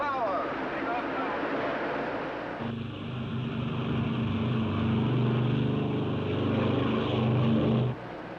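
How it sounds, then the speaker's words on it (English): A propeller airplane's engine roars steadily at takeoff power, rising in intensity and holding a loud, droning tone with a sharp change in pitch partway through, with a voice speaking over it. "Takeoff power. Takeoff now."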